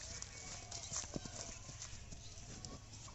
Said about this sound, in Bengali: চলে আসছে হারুন ভাইয়ের সেই আকর্ষণীয় গরু